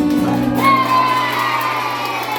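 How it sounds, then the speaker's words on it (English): A children's audience claps and cheers with shouts of yay after a song at a Cornish folk performance, loud crowd noise that swells and then settles over a sustained musical tone. "you clap and say yay."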